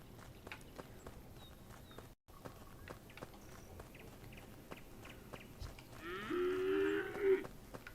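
A cow moos in the video game Epic Chef, one drawn-out, fairly loud low call lasting over a second against quiet footsteps and ambient game sounds.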